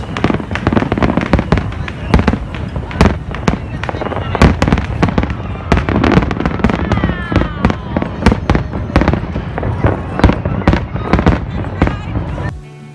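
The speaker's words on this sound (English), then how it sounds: "and then we took in the fireworks." Fireworks in Texas over the holidays burst in a dense, irregular barrage of loud, sharp bangs and crackles, some close together and some spaced, continuing for over ten seconds.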